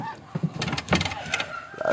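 Several hoarse honks from birds, close by, broken into short repeated bursts with some rustling and bumping between them.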